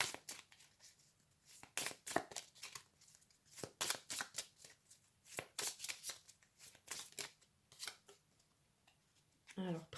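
Oracle cards being shuffled and drawn give soft, quick riffling and sliding bursts in irregular clusters with quiet gaps between them, close and fairly faint.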